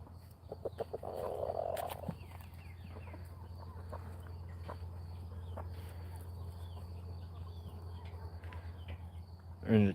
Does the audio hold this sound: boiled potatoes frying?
no